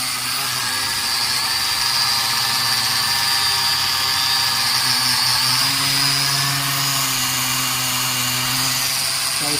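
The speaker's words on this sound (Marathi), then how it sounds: "आता आपण तिसरा पण ड्रोन चालू झालेला आहे, तिसरा पंखा." Propeller motors of a cheap toy drone whir steadily at close range, a constant high buzzing whine that holds unbroken for the whole stretch, loud and alone without talk.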